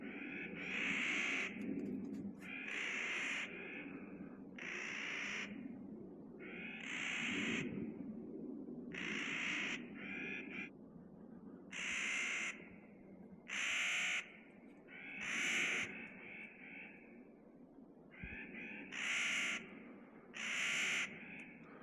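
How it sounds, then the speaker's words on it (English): Birds calling back and forth at sunlit morning cliffs, a series of loud, harsh repeated calls spaced a second or two apart over quiet outdoor ambience. "There seems to be some kind of a bird rivalry going on or something."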